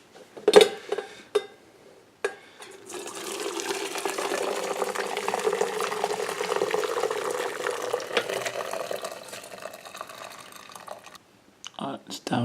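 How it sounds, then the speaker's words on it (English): Freshly boiled soursop herbal tea is poured from a pot in one steady stream lasting about eight seconds, framed by sharp clinks and knocks of kitchenware before and after. "so I'm gonna just pour it out."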